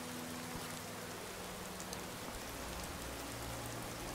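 Steady rain in the video game Skyrim pours down continuously, a dense, even hiss of drops with a low rumble underneath, no voices.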